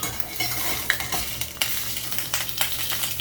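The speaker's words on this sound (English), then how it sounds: "So you just put it right in the pot and let it start cooking a little bit." Fish cooks in olive oil in a pot on a stovetop, giving a steady close sizzle with scattered crackles and pops, broken by a few scrapes and stirring clinks of a utensil against the pot, with no voices.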